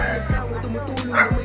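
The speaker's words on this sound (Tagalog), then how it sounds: "Ay, may nakaharang na aso." A dog blocking a roadside doorway barks a few sharp times at close range, with whimpering yips between barks, no talk over it.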